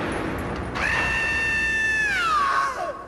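A single long, high-pitched scream rises sharply, holds steady for about two seconds, then trails downward and fades, heard alone over a faint background hiss.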